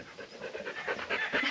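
A puppy pants rapidly and steadily up close beside a road at an off-grid waterfront campsite, giving quick rhythmic breaths with no talking.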